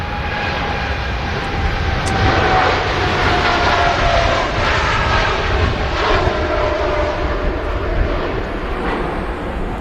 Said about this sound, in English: That is a TUI Fly Nordic aircraft for a change. 787-9 Dreamliner on its way to Cancun.